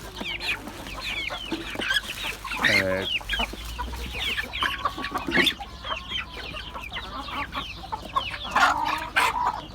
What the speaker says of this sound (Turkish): diğer tavuklar da yemek istiyor ama onlara yok